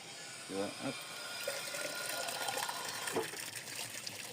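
A tap runs at a cemetery water point, a steady close hiss of pouring water that fills the whole stretch, with a voice briefly audible over it.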